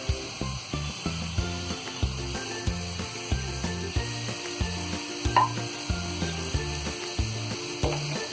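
Spring onion greens go into a potato and pea sabzi frying in a pan, giving a steady soft sizzle and light stirring beneath louder rhythmic background music that plays throughout.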